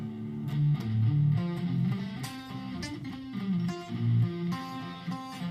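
Palm-muted distorted electric guitar riff, played on the bridge pickup, chugging steadily and loud with short rhythmic bursts throughout.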